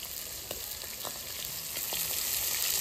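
Fish sizzles steadily in a pan of oil, with several sharp, distinct pops bursting through the hiss at irregular intervals.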